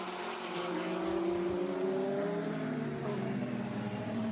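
GT race cars, a Mercedes-AMG and a Ferrari, climb the hill at Spa during a 24-hour endurance race, their engines making a loud, continuous roar with rising pitch as they accelerate past, under faint commentary.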